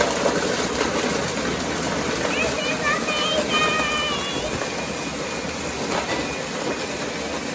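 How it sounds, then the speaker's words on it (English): A blender making a mango, orange and pineapple smoothie roars continuously at close range, a loud, steady whine that almost drowns out a person speaking over it. "If you can't hear me, that's okay, because the blender's doing the noise"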